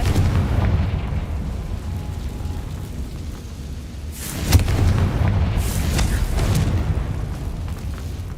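A Confringo fire spell explodes in Hogwarts Legacy with a loud, close blast midway through, then a second burst soon after, both over a constant low rumble of game ambience.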